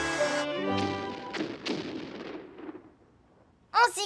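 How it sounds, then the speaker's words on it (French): Pirate cannon fire in a cartoon: a booming blast with a long, rumbling decay and a few more thuds trailing off, then a sudden sharp burst near the end. "J'ai l'impression de sentir de la fumée chaque fois que les pirates tirent un coup de canon"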